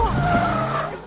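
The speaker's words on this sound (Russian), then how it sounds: "Водитель теряет управление, и машина переворачивается." A car skids with sustained tire squeal as the driver loses control before overturning, a short loud burst of rubber scraping against the road.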